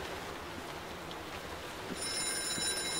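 In the video game White Night, a telephone rings, a bright repeating electronic ring that comes in near the end over a dim, steady ambient background with no talk.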